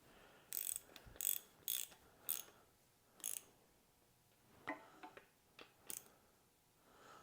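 A ratchet snugging down rod bolts on a 5.0L H.O. engine short block: short bursts of quick clicking in an uneven rhythm, separated by brief pauses, close but fairly quiet in a still room.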